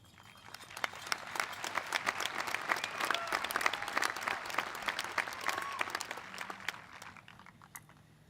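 An audience at the Avon High School Class of 2024 graduation applauds, building from scattered claps into a full, steady round that swells in the middle and then tapers off.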